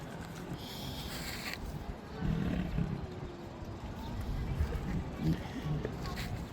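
A white tiger gives a low, rumbling roar at moderate distance, surging in the middle of the stretch amid steady background noise, with people talking nearby.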